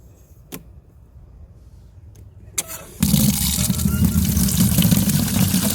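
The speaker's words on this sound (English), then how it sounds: "So as I fill it up, I just move the bucket around so that it mixes the fertilizer in there." Water from a tap gushes into a 5-gallon bucket holding a cup of garden fertilizer. After a few quiet seconds with small knocks, a loud, steady rushing starts abruptly and keeps going.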